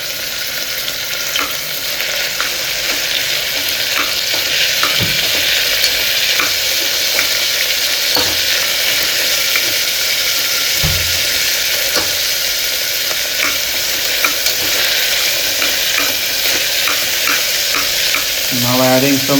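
Chicken yakhni pulao being stirred and fried in a pan, with steady sizzling and repeated spoon scrapes and knocks throughout, close and fairly loud, no talking.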